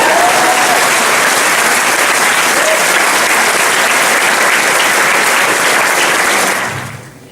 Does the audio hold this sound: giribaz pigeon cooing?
no